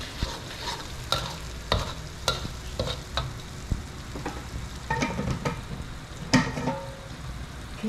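A spoon scrapes and clatters as food is stirred in a hot frying pan for Malaysian nasi lemak. A steady sizzle runs underneath, broken by irregular metallic knocks, close and moderately loud, with no voices.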